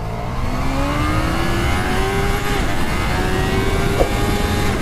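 Motorcycle engines rev hard as a KTM Duke R and a Z bike accelerate side by side in a drag race, the rising engine pitch climbing steadily, loud and close, with no speech.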